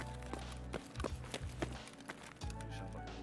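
Footsteps running up stairs in the Escape From Tarkov PvP shooter, a steady run of close, fairly loud thuds over busy game ambience with no voices.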